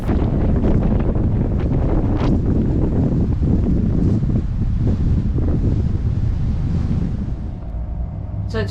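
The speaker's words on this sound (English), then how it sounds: "This is what the sound's like outside." Strong wind blowing outside a Nordhavn 55 motor yacht at anchor in a cove at high tide, a steady loud roar with buffeting gusts and wind noise on the microphone, easing slightly near the end.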